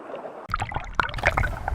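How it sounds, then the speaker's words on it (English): Salmon in an Alaskan river fanning their tails against gravel to dig spawning nests, a run of gritty scraping and splashing thuds that starts partway in and goes on as a busy close wet churn. "The grinding sound is salmon using their tails to make nests called redds"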